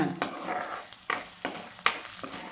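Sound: garlic and dried red chillies frying in oil

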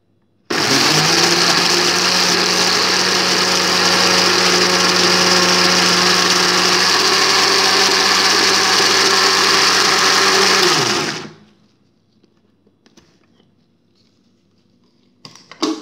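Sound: blender blending aloe vera hair mask

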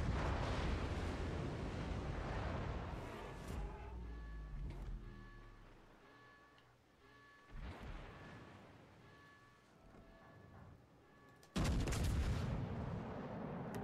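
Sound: naval gun shells firing in World of Warships Legends video game

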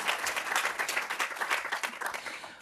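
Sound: audience applause

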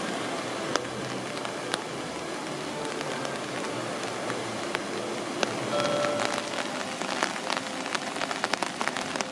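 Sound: rain hitting an umbrella

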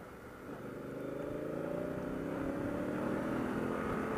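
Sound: Honda Africa Twin 2016 motorcycle engine

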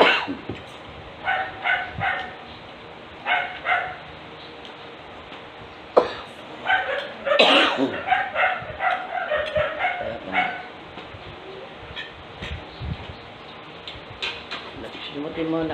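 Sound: dog barking

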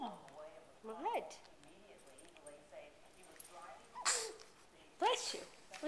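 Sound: dog sneezing

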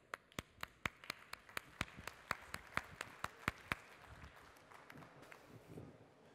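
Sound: audience applause

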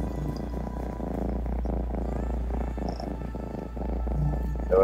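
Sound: cat purring

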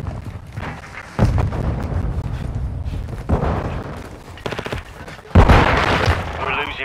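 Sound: grenade explosion and gunfire in Call of Duty Modern Warfare video game

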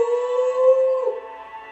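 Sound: wolf victory howl in Okami video game

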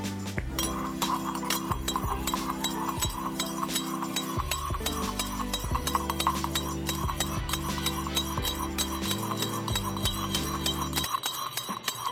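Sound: stirring oolong milk tea mixture in shaker

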